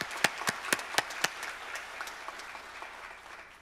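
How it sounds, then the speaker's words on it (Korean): A church congregation gives a round of applause, a few sharp, sparse claps at first that thin out and fade into a soft patter. "하나님께 영광의 박수를 올리겠습니다"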